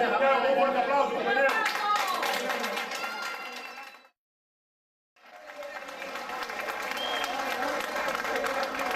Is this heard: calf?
no